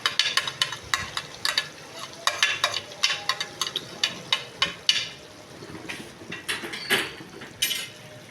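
Capsicum, tomato and onion frying for dal mash, with a stirring spoon scraping and clinking against the pan in an irregular rhythm over a steady background sizzle.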